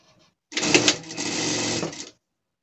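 A sewing machine stitches a seam on a gaucho-style pet costume, one steady burst of close, loud mechanical whirring lasting about a second and a half, with silence before and after.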